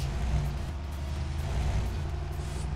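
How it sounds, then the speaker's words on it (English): A heavy Kenworth W900A truck engine in Euro Truck Simulator 2 rumbles steadily at idle, a low continuous drone close by with no voices. "The engine sounds."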